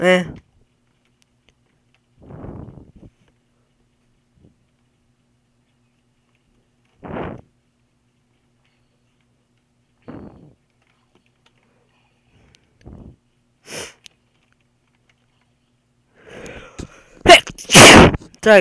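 A single sharp sneeze bursts out near the end, loud and close, after long near-silent stretches broken by brief voice fragments and clicks.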